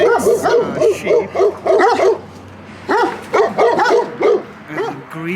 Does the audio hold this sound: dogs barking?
yes